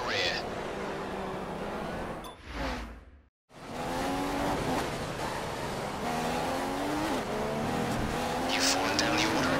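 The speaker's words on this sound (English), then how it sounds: "The front tyres are locking." Front tyres lock and squeal on an F1 car in F1 2015 at Catalunya, a high-pitched whine riding over the loud, steady engine roar, with a short dropout midway and a race engineer's radio voice over the top.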